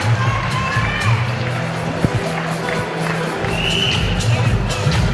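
An arena crowd cheers and shouts loudly near the end of the sixth round of a boxing match, a continuous roar swelling and surging, with a brief sharp knock partway through.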